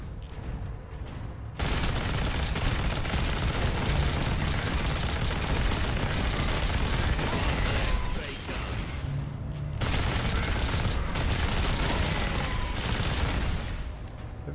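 Rapid bursts of loud gunfire in Warhammer 40,000: Space Marine crackle almost continuously, pausing briefly twice before resuming, with a sharp, synthetic edge.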